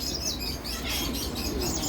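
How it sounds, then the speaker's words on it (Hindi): A myna bird calls at a Hong Kong bird market, clear chirps and whistles heard close against a continuous background of other birds. "ये फिर से एक मैना आ गई"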